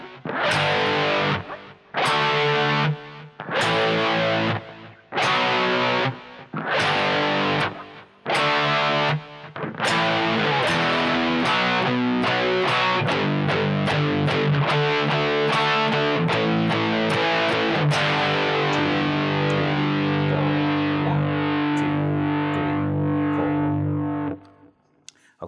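Loud distorted electric guitar chugging out short choppy chorus chords, then sustained ringing chords that fade out at the end.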